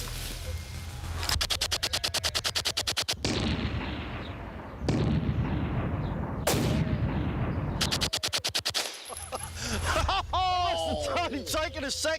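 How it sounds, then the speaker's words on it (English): A German MP28 submachine gun empties a 25-round magazine in loud, close, rapid automatic bursts, with a short pause between strings of fire, while people talk between and after the shots. "First up, the German MP28. I've always wanted to do a full mag"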